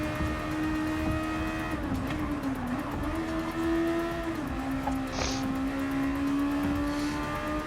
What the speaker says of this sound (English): I should hold the revs a little longer because it is a Honda.